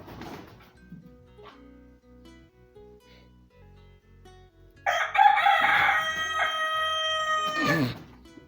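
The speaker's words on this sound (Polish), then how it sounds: "Kury." Backyard chickens with a rooster giving a loud, close crow in the second half, after quieter clucks and scattered calls earlier; one bird answers another.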